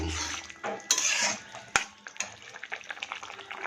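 Fish goes into a pot of boiled potatoes and is stirred, with close metallic clinks and scrapes of a utensil against the pot, soft wet shuffling and a faint simmer underneath.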